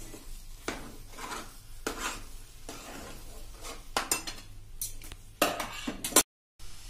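Rava upma ingredients are stirred and mixed in a pan, a spoon scraping and knocking against the metal in uneven bursts with faint sizzling between strokes, close by and without speech, ending in a brief cut to silence.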